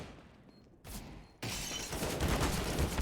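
Rifle spray in CS:GO, a short sharp shot followed by a sustained burst of rapid automatic fire, loud and continuous through the end.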